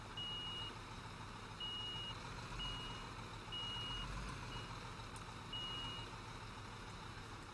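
Repeated reversing beeps from a construction truck in Construction Simulator 2015, short evenly spaced tones sounding over a steady low engine rumble, with no talk.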